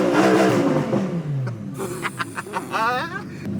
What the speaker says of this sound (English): listen to the revs come up on idle